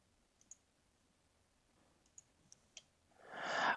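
Computer mouse clicks, a handful of small sharp taps spaced irregularly in a quiet room, followed by a brief rising rustle at the end.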